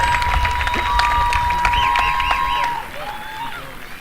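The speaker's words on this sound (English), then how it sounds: "I'd like to start by giving all of our graduates a big round of applause" Graduates at a high school graduation ceremony get a round of applause from the audience, dense clapping and cheering for about three seconds before it thins into quieter crowd noise.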